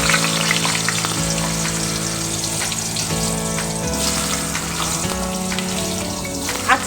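Long-cut potato pieces sizzle steadily in hot oil left over from frying fish, a dense, continuous crackle with a few louder pops, close and alone without any voices.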